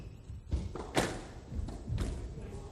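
A squash ball struck in a forehand volley drop by Jahangir Khan against Chris Dittmar in a 1989 world title semi-final makes a few soft, close thuds and taps over a quiet court murmur.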